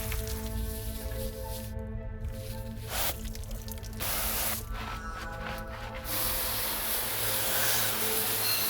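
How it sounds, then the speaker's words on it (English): A Husqvarna FE 450 dirt bike being washed with a water spray gives a loud continuous hissing rush over a steady low mechanical hum, with the spray briefly changing tone as it moves across surfaces. "First up, we're giving the bike a much needed wash."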